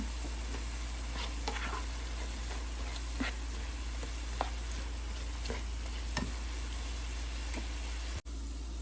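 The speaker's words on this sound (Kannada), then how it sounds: "ಈಗ ತರಕಾರಿಗಳನ್ನ ಇದಕ್ಕೆ ಸೇರಿಸೋಣ." Vegetables for a vegetable kurma sizzle in a hot pan while being stirred, a steady frying hiss with scattered soft scrapes and clicks, close and continuous with no one talking.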